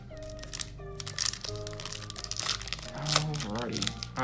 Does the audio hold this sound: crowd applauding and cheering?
no